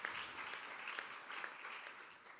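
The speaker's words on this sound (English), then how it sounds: "Round of applause." Steady applause from an audience at a political conference on a green economy and social union, a continuous dense patter of many hands clapping with no pauses, fairly distant and even throughout.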